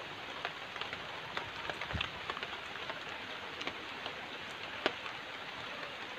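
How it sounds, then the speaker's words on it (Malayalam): Quiet rain falls steadily outdoors as a soft, even hiss with scattered closer drops tapping on a surface, and no voices. "മഴയുടെ ശബ്ദമുണ്ട്."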